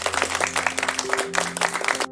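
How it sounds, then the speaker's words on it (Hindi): Fast hand clapping: a quick, even series of sharp claps over a faint steady hum, ending abruptly. "जबकि तेजी से ताली बजाने पर टेम्पो तेज होता है।"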